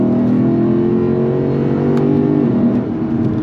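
Lexus RC F Track Edition V8 pulling hard on throttle, a loud, steady engine drone with layered harmonics close by, easing slightly near the end.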